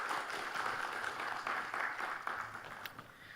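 A church congregation claps in a fairly quiet, roomy wash of applause that holds steady, then thins toward the end, with a few separate claps standing out.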